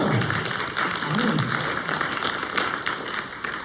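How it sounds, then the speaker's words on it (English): An audience at a Parkinson's support gathering applauds for a man named Peter, a dense, fairly loud wash of clapping with a brief voice or cheer near the start. "Can we give it up for Peter?"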